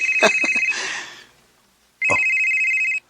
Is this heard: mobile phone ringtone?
yes